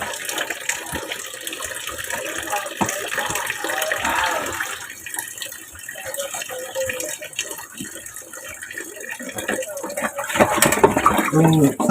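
Tap water runs steadily into a sink for the whole stretch, with occasional clinks and splashes of washing up close by.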